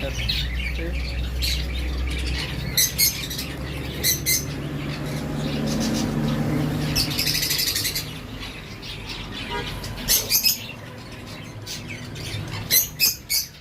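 Finches and other birds squawk and chirp in short, repeated bursts over a steady indoor hum in a bird shop, fairly close, with faint talk in the background.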